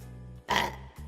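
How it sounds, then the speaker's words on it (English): A single guttural burp rises out of a low steady hum, lasting about half a second before fading, with no talking. "I have to burp again."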